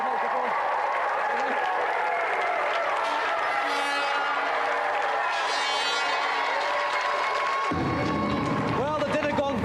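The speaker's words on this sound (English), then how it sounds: "that's another round of applause again for Auntie Marisha and Letty Edwards" A TV game show studio audience applauds with cheering and chatter, a dense wash of clapping that continues throughout, with voices and a shift in tone near the end.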